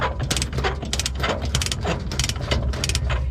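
A ratchet chain binder on a dump trailer tiedown is worked loose with rapid, regular metallic clicks from its pawl, close and clear, coming in quick bursts.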